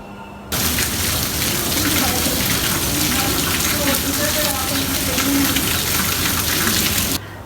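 Heavy rain pours down steadily and loudly, a dense, constant wash of water that starts abruptly and holds at the same level throughout, with no other sounds standing out.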